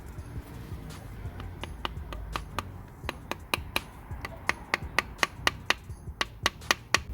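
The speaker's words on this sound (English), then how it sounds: "We use the old seal to tap it on." A VW Passat crankshaft oil seal is tapped into place using the old seal as a driver, a series of sharp close taps that quicken into a steady rhythm.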